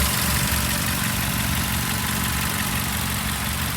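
A 2-liter Ford Focus engine idles steadily and loudly, a continuous close rumble with a light ticking, with no talk over it.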